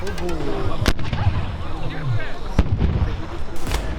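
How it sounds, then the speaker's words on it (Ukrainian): Rifles and cannons fire blanks at a Crimean War reenactment of the Battle of the Alma near Bakhchysarai: a few sharp, loud reports ring out separately over outdoor rumble and distant voices. "стріляють зі штуцерів і гармат холостими"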